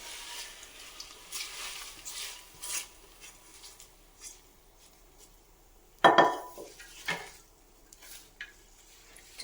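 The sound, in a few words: mixing tempering into rice in a pot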